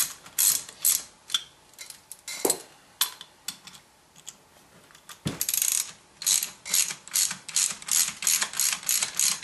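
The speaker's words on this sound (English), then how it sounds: "I think it'll be neat using the old hand crank blower on my forge" Old hand-crank forge blower being turned by hand, a rapid rattling clatter of gears and ratchet-like clicks in uneven bursts, close and fairly loud, with a couple of sharper knocks and no talking.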